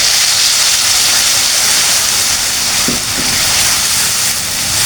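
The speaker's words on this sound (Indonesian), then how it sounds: "Minyak udah panas, kita siap goreng bumbunya." Spice paste sizzling in hot oil in a wok, a loud, steady broadband hiss that continues evenly from start to finish with a few faint clinks partway through.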